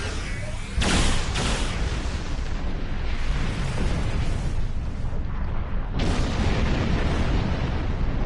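Weapons fire and explosions in the Star Trek Online game on PS4, a loud continuous roaring rumble with a heavy boom near the start and another around the six-second mark.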